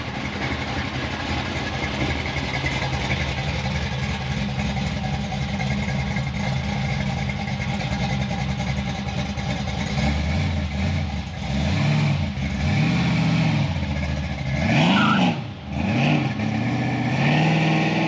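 A Ferrari engine idles steadily, then blips its throttle several times near the end, each rev sweeping up to a high, sharp pitch before falling back, loud and close with no talk.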